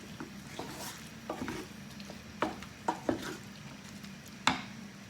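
Food in a pan is stirred for Chinese pork lettuce wraps, a soft scraping and sizzle broken by a few sharp clacks of a utensil against the pan, close and fairly quiet.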